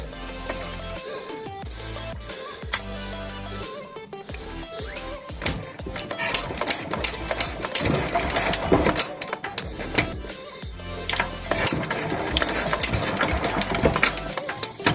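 A Petter PA2 petrol engine catches and runs, its rapid mechanical chatter rising in loudness after a few seconds and continuing steadily up close.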